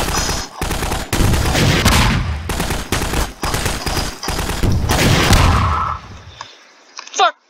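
Rapid bursts of gunfire crackle almost continuously and loud for about six seconds, overlapping in dense volleys, then cut off, leaving a short tail and a single sharp noise at the end.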